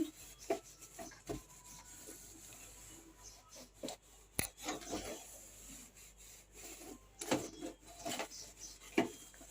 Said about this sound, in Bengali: গ্যাসও পরিষ্কার করে নিচ্ছি